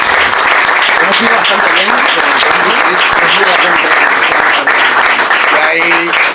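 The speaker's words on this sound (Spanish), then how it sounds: "un aplauso a David de nuevo" Applause for David at a book presentation about Carabanchel, a dense and steady round of clapping from the audience lasting the whole stretch, with a voice speaking over it near the end.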